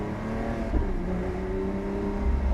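A Lamborghini Aventador SVJ Roadster with a computer-controlled single-clutch manual gearbox, its engine droning with a brief rev and gear-change blip, heard from inside the car, with no talk.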